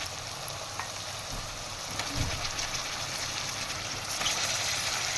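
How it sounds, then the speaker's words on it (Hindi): Ginger garlic paste fries in a handi with a steady close sizzle and faint bubbling, as it cooks ahead of mutton for mutton malai handi. The sound runs continuously and is moderately loud. "अब मैं इसमें अदरक लहसुन का पेस्ट डाल के इसको थोड़ा सा मिक्स करूँगी"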